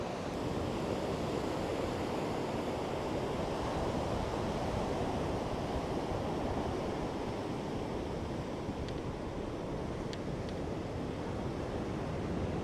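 Sea waves still running high after a storm crash and roar in a continuous, dense wash of surf, loud and close, with wind buffeting the microphone throughout.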